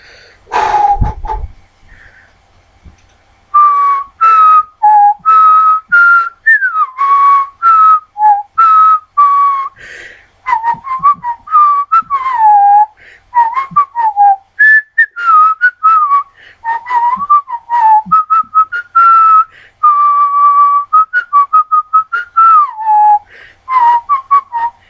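A person on a podcast whistles a tune close to the microphone, a loud, steady stream of pitched notes that bend and slide, alone after a brief noise at the start.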